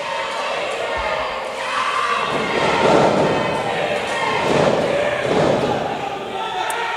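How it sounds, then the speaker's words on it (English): A pro wrestling event crowd roars and swells in waves, with thumps from the ring and a commentator's voice talking over the noise. "Listen to this crowd."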